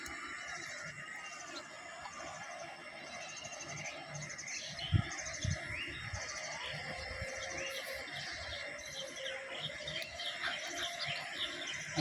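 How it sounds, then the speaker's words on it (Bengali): Migratory birds in a large flock chatter and call continuously in the morning, a dense high twittering layer that sounds somewhat distant, with faint voices underneath. "আজকে অতিথি পাখি আমাদের এলাকায় অনেক আগমন, অনেক অতিথি পাখি"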